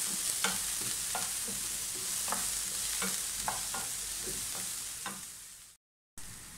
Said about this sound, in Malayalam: നമ്മുടെ വെജിറ്റബിൾസ് എല്ലാം ആവശ്യത്തിന് വഴന്നിട്ടുണ്ട്